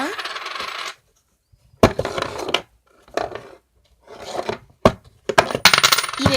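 Coins clatter out of a homemade coin-dispensing machine in several short bursts of metallic jingling and dropping, separated by brief pauses, close and fairly loud with no talking.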